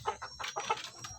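A young jungle fowl kept as a decoy bird gives a run of soft clucking calls, several short bursts close by and fairly quiet, with no voices.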